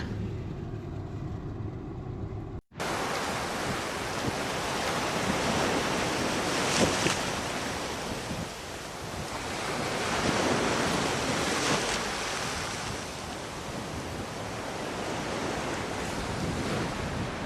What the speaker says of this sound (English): Welsh seaside.